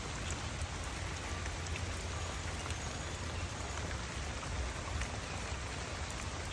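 Steady rain pattering on a surface, a dense continuous hiss with scattered close drop impacts, heard alone without voices.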